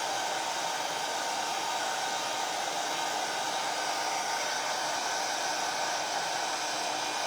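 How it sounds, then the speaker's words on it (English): A hair dryer blows steadily on DIY snow paste coated on a plastic ornament, a loud, even broadband whoosh that holds without a break for the whole stretch, with no voices over it. "I'm just trying to dry the snow a bit."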